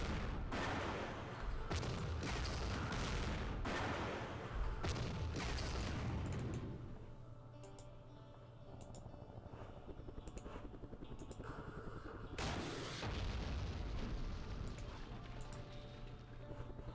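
Ontos recoilless rifle firing in a Vietnam War strategy game, Operation Starlite: several loud booming shots and blasts in bursts, with a rumbling background hum between them.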